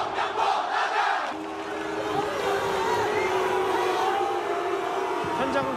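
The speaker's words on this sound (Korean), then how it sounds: "많은 관중들이 홍 감독을 향해서 홍 감독 나가라. 의리는 어디로 가냐 라면서 계속적으로 야유를 쏟아냈습니다" Football crowd in a stadium boos and chants against coach Hong Myung-bo at his farewell match, a broad, distant mass of voices roaring steadily with rhythmic chanting.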